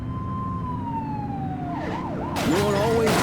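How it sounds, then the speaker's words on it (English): A loud police car siren in the game The Precinct wails up and down close by, sweeping through fast yelping cycles over a steady engine rumble. "You're only meant to use the siren in emergencies."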